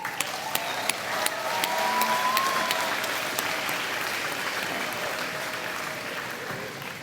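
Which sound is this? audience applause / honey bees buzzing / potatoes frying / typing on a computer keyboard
audience applause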